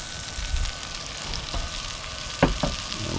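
Slippery jack mushrooms frying in butter with garlic and onion, a steady close sizzle with a few louder stirring scrapes near the end.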